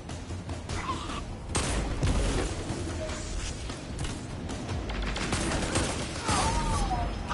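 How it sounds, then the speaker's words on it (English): Shotgun blasts and gunfire in a fantasy combat video game, a dense continuous fusillade of bursts and booms filling the scene with brief vocal outbursts mixed in. "He's got a shotgun."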